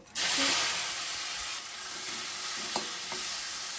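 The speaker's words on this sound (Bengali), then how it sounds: "গন্ধরাজ চিংড়ির জন্য চিংড়ি মাছগুলোকে একটু ভেজে নেব।" Prawns frying in hot oil in a new wok, a loud close sizzle that bursts in abruptly and then hisses steadily, with a few soft stirring knocks partway through.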